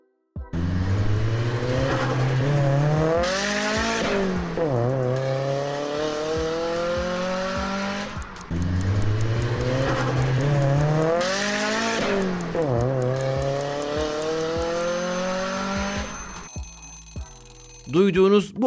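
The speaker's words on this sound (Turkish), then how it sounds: "Duyduğunuz bu araba sesi Nissan 240 SX'e aittir." A Nissan 240SX sports car engine revs hard through rising, whining sweeps, eases off, then climbs again. The same loud, close run of acceleration plays twice in a row.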